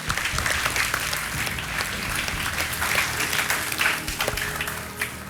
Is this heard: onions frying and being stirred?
no